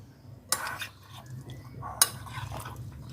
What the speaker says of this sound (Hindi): सारे चिकन को ऐसे मिक्स करके अच्छी तरह